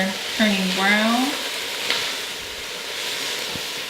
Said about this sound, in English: So I can see that my onions are turning brown.